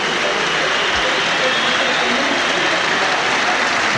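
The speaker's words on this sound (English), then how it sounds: "getting a second round of applause" Dense, steady applause rises from a large rugby crowd at a South Africa versus Australia match in 1992, a continuous broad roar of clapping that holds throughout at even loudness.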